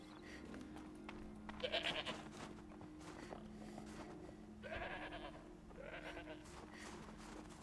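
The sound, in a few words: goat bleating in video game Horizon Zero Dawn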